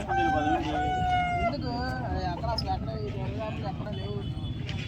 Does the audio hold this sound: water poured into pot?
no